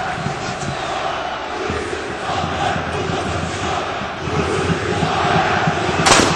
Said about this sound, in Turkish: Galatasaray taraftarı burası Samiyen buradan çıkış yok tezahüratını yaklaşık bir saat önceden beri başladı yapıyor